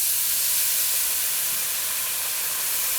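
Water poured into a hot pan of browned rice and vermicelli sizzles in a loud, steady hiss that holds evenly throughout, close and alone with no talk.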